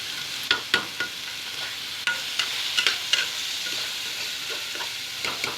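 Sliced onions slowly frying on a low flame, a steady soft sizzle with a few sharp spoon-against-pan taps scattered through it, no voices.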